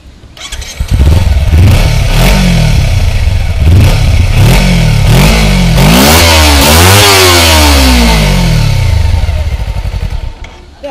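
Kawasaki Versys-X 250 motorcycle engine starting, then revved in repeated rising and falling bursts, climbing to a higher peak before settling back to idle; loud and close, no talking.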